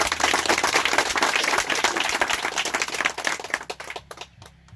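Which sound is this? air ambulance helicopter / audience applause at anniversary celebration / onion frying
audience applause at anniversary celebration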